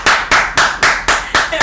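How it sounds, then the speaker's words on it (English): Studio hand clapping, seven sharp claps at a quick, even rhythm, loud and close, with no other sound between them. "What are you clapping for?"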